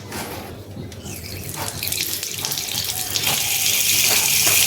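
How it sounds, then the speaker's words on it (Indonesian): Water runs from a tap fed by a Tsolumy ZY-100 booster pump, starting as a thin trickle and swelling into a loud, steady hissing gush as the flow strengthens. "Kita coba hidupkan untuk kerannya."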